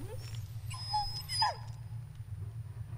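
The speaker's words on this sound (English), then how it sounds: "Oh, you tired, doggy" A dog whimpers in the Blair Witch game, a couple of thin high whines near the middle over a constant low hum, brief and fairly soft.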